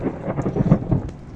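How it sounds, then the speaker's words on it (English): Heavy rain pours steadily in South Africa while thunder rumbles low and continuous beneath it, a dense wash of storm noise with no voices. "it's raining a lot here in South Africa"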